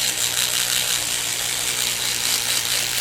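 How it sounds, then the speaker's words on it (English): A cheap handheld power sander runs steadily on a resin designer toy, a continuous buzzing whir with no breaks and no talk. "cheap, quick power sander"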